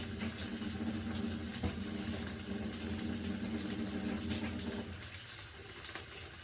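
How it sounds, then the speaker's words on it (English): Hot pasta water pours slowly from a pot into a kitchen sink in a steady, close gushing stream that lasts a few seconds and then tapers off, with no talking. "So I'm just slowly pouring it out."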